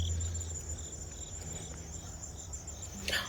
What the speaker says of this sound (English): I hear you, bugs.